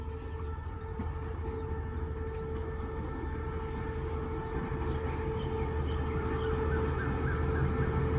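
A diesel locomotive rumbles into Ban Kut Bua station in Thailand, pulling up on the first track. It makes a steady, loud engine drone with sustained tonal hum that grows slightly louder throughout, with no talking.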